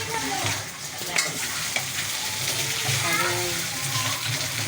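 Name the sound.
stirring food frying in a pan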